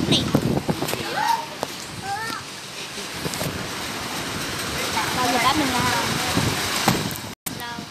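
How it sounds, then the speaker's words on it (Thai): Rain falls steadily outside a house, a continuous broadband hiss lasting the whole stretch with voices speaking over it and a brief dropout near the end. "บางทีก็อาจจะมีเสียงฝนตกนะครับเพราะว่าบ้านผมฝนตก"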